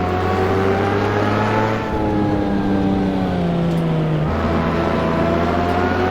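A 3.5-litre V12 engine of a Lamborghini Miura in a racing video game revs steadily, its pitch sliding down then climbing again, loud and continuous with a synthetic, game-like tone.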